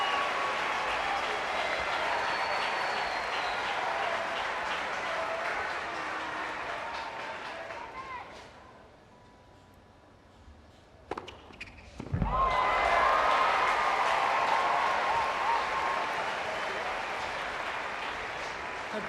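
Tennis crowd applause and cheering from the 2000 Cincinnati final between Enqvist and Henman, loud and sustained, dropping to a hush midway before a sharp burst of renewed clapping and cheers.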